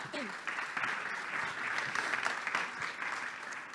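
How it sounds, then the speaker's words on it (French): Audience applause at a business startup day event, a steady moderate wash of clapping from a crowd for several seconds, fairly distant and even. "C'est à toi, sous vos applaudissements évidemment."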